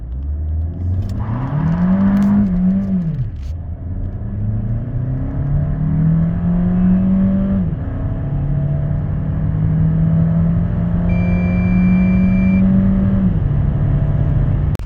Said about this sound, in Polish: takie 9 sekund to przyzwoity wynik i auto przyjemnie liniowo przyspiesza